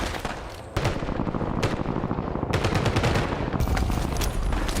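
Rapid bursts of automatic gunfire from a Call of Duty Warzone esports match ring out close and loud, with dense overlapping shots and brief gaps between volleys.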